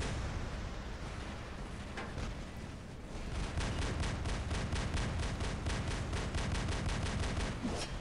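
Robot weapons fire in War Robots, a continuous loud barrage of rapid shots that grows denser and more rhythmic partway through, with rumbling blasts underneath.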